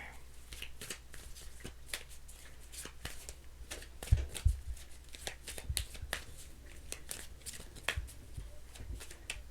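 Tarot cards are shuffled by hand in a long run of quick, crisp riffling snaps and slaps, close up, with a few louder taps partway through.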